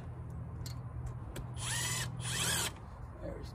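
A cordless impact wrench works bolts loose on the EGR system of a Ford F250 truck, giving short bursts of whirring and rattling hammering over steady background noise, with a longer buzzing run in the middle.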